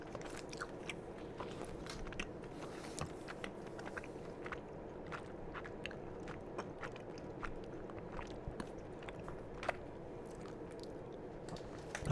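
Close, quiet chewing of a candy with pecans, caramel and nougat, with soft sticky crunches and irregular wet bites repeating throughout, no talking.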